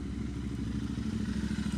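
A motorcycle engine running steadily on a bike ride, with a low, continuous rumble and light rattling; quiet and even, with no voices.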